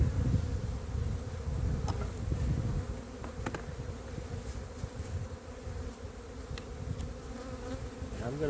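Honeybees at an apiary hive buzz in a dense, steady drone close by, with a few faint clicks and knocks as the hive is worked and no voices.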